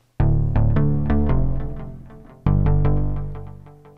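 Square-wave house bass patch from the VPS Avenger synth with an added fifth note layered in, playing a bright, punchy staccato riff of rapid notes that restarts partway through, loud and alone with light delay.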